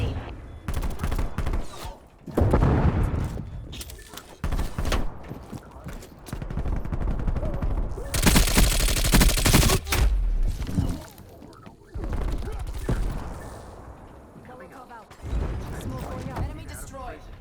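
Repeated heavy gunfire bursts and booms from a hand cannon in the video game Call of Duty: Black Ops Cold War, loud and close, with dense volleys interrupted by short pauses and game voice callouts throughout.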